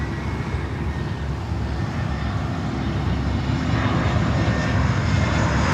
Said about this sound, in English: A Behemoth freighter.